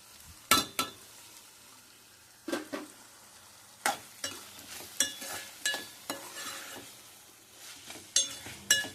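Tomato and green chillies frying in a pan for a prawn masala curry, with steady sizzling under repeated stirring scrapes and metallic clinks that come in irregular bursts.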